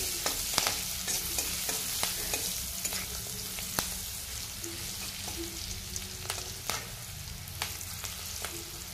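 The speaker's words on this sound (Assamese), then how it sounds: "এতিয়া এইখিনি খুব ধুনীয়াকৈ লৰাই ভাজি লৈছো" Food sizzles steadily in a hot pan, small shrimp being stir-fried with salt, while a utensil scrapes and clicks against it at irregular moments, close up and without talk.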